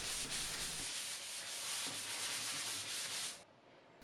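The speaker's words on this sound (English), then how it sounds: "so just do a light scuff sanding." A 220-grit sanding sponge scuffs lightly over a primed vintage wooden cabinet in quiet, steady rubbing strokes close by, then stops abruptly near the end.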